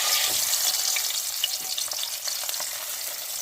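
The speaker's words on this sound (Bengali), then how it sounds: "এবার ওই তেলে আমি দিয়ে দেবো পাবদা মাছগুলো।" Pabda fish sizzle as they drop into hot oil in a kadai, a close, continuous crackle and hiss with small sputtering pops, steady and fairly quiet, with no talking.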